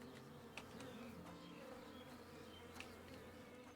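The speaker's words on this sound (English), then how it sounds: "Two bees to accompany by the fire." Bees buzz in the video game Chop Chop Inc, a steady, faint droning hum with a few soft clicks and no voices.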